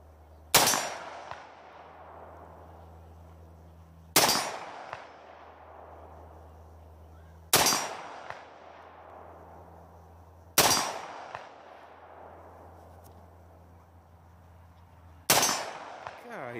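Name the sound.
gunshots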